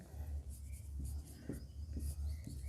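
Pen writing out a maths solution, soft scratchy strokes in short bursts over a steady low hum, with a voice speaking quietly at times.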